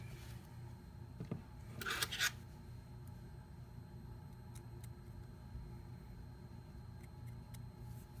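Scissors snipping cotton wick for a Vandy Vape Kylin RTA: a faint tick, then a quick cluster of two or three crisp close cuts, followed by light scattered clicks in a quiet room.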